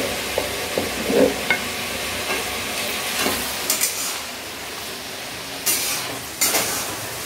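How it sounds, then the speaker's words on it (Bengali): Onions fry in a pan in a home kitchen, giving a steady low sizzle. A few soft clinks and stirring scrapes sound over it, and there is no talk. "আর এদিকে হবে মাংস, তাই পেঁয়াজ ভাজা হচ্ছে"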